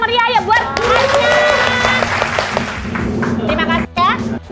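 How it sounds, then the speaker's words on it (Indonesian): Small group clapping at a spicy meatball mukbang stall in Bandung, a few seconds of hand claps mixed with overlapping excited voices and chatter close by. "Tepuk tangan dulu yang meriah ya"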